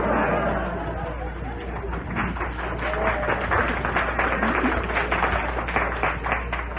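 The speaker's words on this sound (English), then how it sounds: "that was a sorehead applause" Studio audience applause at a 1965 Jean Shepherd radio show, a sustained patter of many hands clapping throughout, moderately near, with some crowd murmur mixed in.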